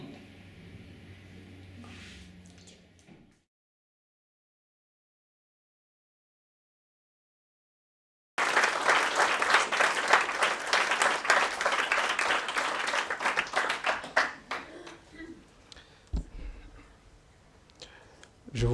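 Audience applause at an award ceremony for an international human rights prize, a loud dense wash of many hands clapping that swells after a silence and then thins out toward the end.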